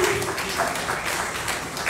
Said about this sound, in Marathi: तर जोरदार टाळ्या मुरलीधर सरांसाठी